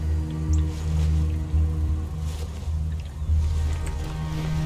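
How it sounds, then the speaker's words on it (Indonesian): A generator engine runs steadily in the video game Sniper Elite 4, a continuous low droning hum with a slight pulsing throb that holds at a fairly loud, even level throughout. "Ada mesin genset gitu loh."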